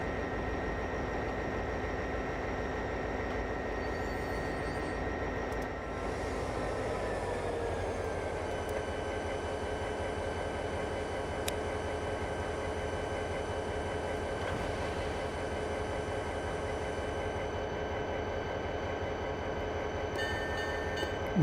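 A subway train runs in a Roblox-style railroad game, a constant loud droning rumble with steady motor whine that shifts pitch partway through as the train changes speed, continuing alone without talk.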